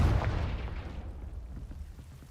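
A Confringo fire spell explodes in Hogwarts Legacy, a loud booming blast at the start that rumbles and fades over a couple of seconds.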